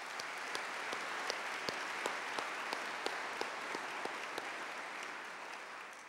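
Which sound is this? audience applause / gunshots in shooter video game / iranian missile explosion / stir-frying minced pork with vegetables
audience applause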